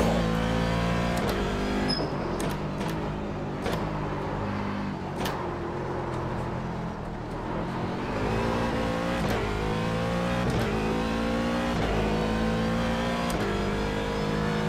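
IMSA Daytona Prototype race cars in the iRacing game at Virginia International Raceway: a loud, steady engine drone that rises and falls through repeated revs and gear changes, with brief sharp clicks, close and continuous throughout.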